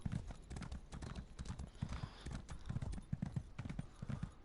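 Horse hooves clip-clop in a steady, quick rhythm as a mount trots along in Elder Scrolls Online, close and continuous, each beat crisp against a low background.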